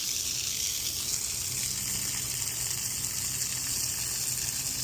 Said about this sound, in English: So flush it out for another maybe 5-10 seconds.